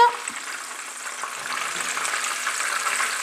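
Breadcrumb-coated tomato and mozzarella balls fry in hot oil, giving a steady, fairly loud sizzle and crackle that builds slightly over a few seconds, with no voices.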